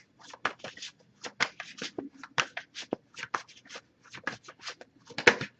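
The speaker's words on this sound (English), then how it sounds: "if I shuffle for a while and anything coming up, I'll just put the deck down" A tarot deck is shuffled close up, with quick, irregular riffles and soft card slaps repeating over several seconds in an otherwise quiet room.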